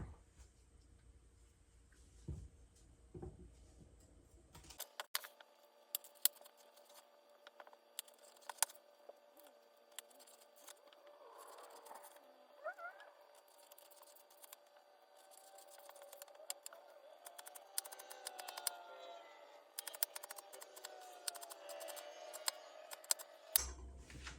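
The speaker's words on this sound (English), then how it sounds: "I like to cut up my celery into real small dice-sized pieces" A knife dices celery into small pieces on a cutting board, quiet crisp ticking chops coming in quick irregular runs, close and faint, with no talking.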